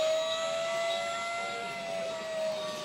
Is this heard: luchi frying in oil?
no